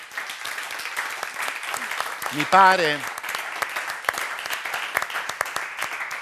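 A crowd claps continuously in dense, lively applause while a voice briefly speaks over it.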